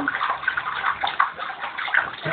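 Bath water sloshes and splashes continuously around a child in a tub, close and fairly loud, with irregular bursts of movement and no clear talk.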